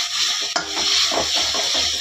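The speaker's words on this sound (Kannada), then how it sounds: "ಹಸಿ ವಾಸನೆ ಹೋಗೋ ಗಂಟ ಸ್ವಲ್ಪ ಫ್ರೈ ಮಾಡ್ಕೊಳ್ಳೋಣ" Ground masala paste for a palak dish fries in oil in a pan while a spoon stirs it. A continuous close-up sizzle carries a few scraping stirs and one brief clink of utensil on pan.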